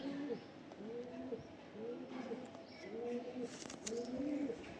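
Domestic pigeons coo in a steady repeating rhythm, several low throaty calls close by, with faint background noise and occasional light clatter.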